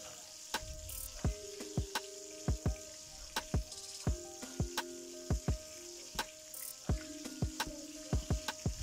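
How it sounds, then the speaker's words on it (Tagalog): Bangus (milkfish) steaks fry in a pan with a steady hiss and crackle, while frequent sharp spatters and pops land in a fairly regular rhythm close by. "So, i-fry natin lahat ng ating isda muna."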